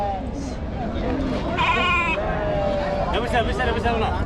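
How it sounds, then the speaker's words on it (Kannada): A young lamb about two months old bleats at a sheep market, several short wavering cries close by amid constant crowd chatter and someone talking. "ಸಣ್ಣ ಮರಿ ರೀ, ಒಂದು 2 ತಿಂಗಳು ಮರಿ ಇರ್ಬೇಕು."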